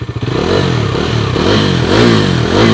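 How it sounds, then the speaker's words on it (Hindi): A Bajaj Dominar 400 motorcycle revs hard nearby, its exhaust note climbing and falling through several loud throttle swells over a rough, clattering engine, with no talking. "थ्रॉटल अभी दूंगा मैं, एग्जॉस्ट नोट सुनो।"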